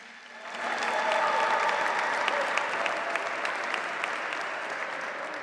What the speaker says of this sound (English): let's give a round of applause for all our honorees once again